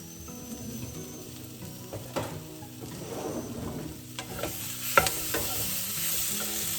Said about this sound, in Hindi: बीच बीच में चलाते रहना पड़ेगा, क्योंकि मैंने इसमें ऑयल कम डाला है।